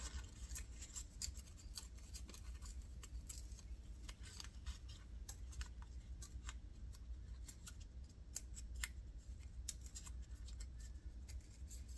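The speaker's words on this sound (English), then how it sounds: "Let's see if I can cut just enough off of it to make it look not so square." Scissors snip through paper being trimmed for a junk journal page, a run of many quick, close, crisp cuts in an irregular rhythm with no talking.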